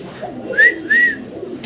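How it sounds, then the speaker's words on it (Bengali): A pair of blue racing pigeons coos nearby: two short, clear, rising coo notes in quick succession over a soft background murmur. "এখানে একজোড়া রেসার কবুতর আছে ব্লু কালারের"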